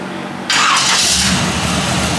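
A 1940 Ford engine cranks and catches abruptly, then settles into a loud, steady running roar close by, with no voices over it.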